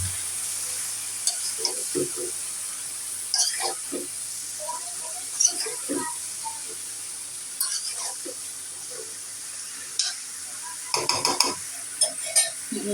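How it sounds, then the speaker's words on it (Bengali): Cut eggplant is tipped into cooked-down spiced masala in a pan and stirred, with soft crackling sizzle under scattered scraping and clinking of a spoon against the pan, quiet and close. "এখন আমি বেগুন ঢেলে দেবো,"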